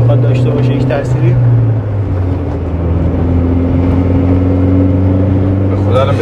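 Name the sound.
Peugeot 206 engine revving with electric superchargers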